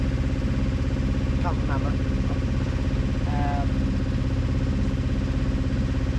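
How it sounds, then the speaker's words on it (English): A sailing boat's engine runs steadily while crossing the North Channel between Glenarm and Gigha, giving a constant low, throbbing drone throughout, with faint brief voices over it. "As you can hear, the engine's on again."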